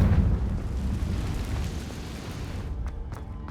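A Confringo spell explosion in Hogwarts Legacy: a deep, sustained, rumbling blast that rolls on for a few seconds and slowly fades, followed by a couple of faint crackles, with no talk.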